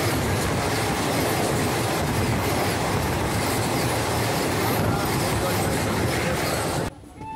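The Kanchenjunga Express, running from New Jalpaiguri to Sealdah, rumbles loudly and steadily as heard from a sleeper-class coach, then the sound drops off sharply near the end.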